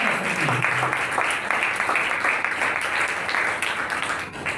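Audience applause at an ordination ceremony in Karachi, a steady wash of many hands clapping that fills the room for several seconds before easing slightly at the end.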